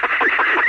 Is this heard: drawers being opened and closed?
no